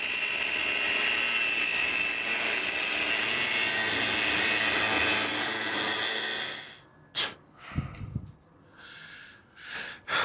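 A wide lock nut on a 1956 International COE truck bolt is cut in half, a loud continuous high-pitched grinding whine for about seven seconds that then stops abruptly, leaving a few brief clanks and short bursts.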